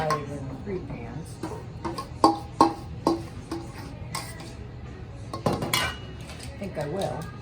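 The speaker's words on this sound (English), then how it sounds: "I'm just dividing it up into these 4 pans." Metal pans clatter and clink in a series of sharp knocks as bread pudding batter is divided into four pans, with scraping and utensil taps in between, close up with a low background hum.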